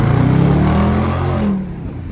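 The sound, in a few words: Dodge Charger accelerating with tires gripping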